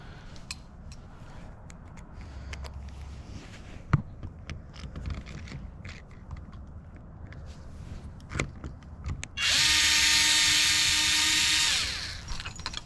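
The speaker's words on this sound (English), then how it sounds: "All right, so let's get a screw in there." A power drill drives a screw into an electrical outlet in a 200-year-old house, one loud steady whir lasting about three seconds near the end, after quiet handling clicks and rustles.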